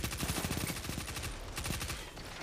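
Video game gunfire rattles in quick automatic bursts, a rapid string of sharp shots that thins out briefly near the middle before another short volley.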